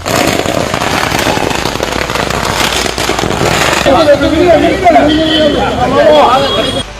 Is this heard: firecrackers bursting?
yes